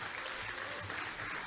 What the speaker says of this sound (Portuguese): Aplaude o teu Deus